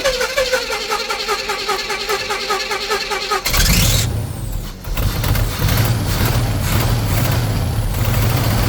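A 1977 Pontiac Firebird cranks with a rhythmic starter whir, then its engine catches and runs loud and rough, surging and settling at a steady rumble close by.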